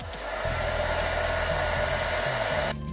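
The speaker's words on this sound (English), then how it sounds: "Gotta get a hair dryer." A hair dryer switched on and running indoors, a loud, steady whirring blow that starts just after the opening, holds evenly and cuts off near the end.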